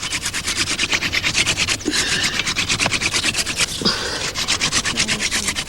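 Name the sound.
rubbing hardwood against softwood to make fire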